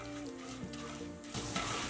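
Mustard seeds, chana dal and urad dal sizzle in hot oil for a tempering for tomato vermicelli bath, giving a steady, fairly quiet crackling hiss that swells slightly toward the end, with no talking.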